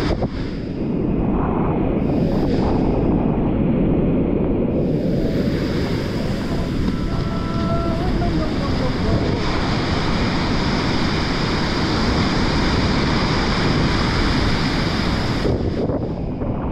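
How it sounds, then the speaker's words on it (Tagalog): Strong rushing water current and gusting wind during a heavy rain and wind storm at Bucana, a loud, continuous roar with wind buffeting the microphone throughout. "lalo pa lumakas ang agos ng tubig"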